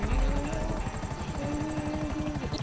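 Steady, fairly quiet aircraft engine drone with a rapid rhythmic chop, from a plane in a video game prison break heist finale, droning alone without talk.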